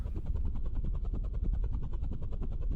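A video game helicopter from an s&box game jam flies in a continuous, loud rotor drone with a steady throbbing chop, heard alone without talk.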